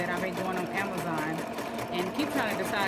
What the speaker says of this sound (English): the sewing machine works just fine